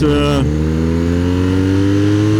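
A BMW motorcycle engine drones loudly and steadily on a race track, holding a sustained tone after a brief higher rev at the start.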